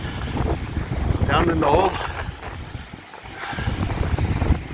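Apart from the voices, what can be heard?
strong wind blowing over rocks while fishing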